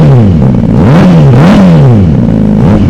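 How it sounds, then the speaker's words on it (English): A 2025 Honda CBR600RR motorcycle with an Austin Racing exhaust revs loudly and close by, several quick sharp blips rising and falling in pitch one after another, with a raspy crackling exhaust note. "Let's give her a few quick revs."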